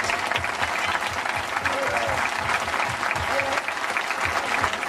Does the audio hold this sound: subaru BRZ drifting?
no